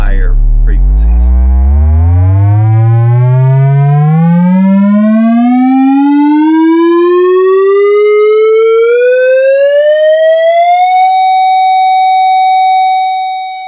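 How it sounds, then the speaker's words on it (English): A pure test tone sweeps smoothly upward from a deep low hum to a high steady whistle, loud and alone, then holds its top pitch before cutting off. "let's go up now and listen to it as we increase the frequency to higher and higher frequencies"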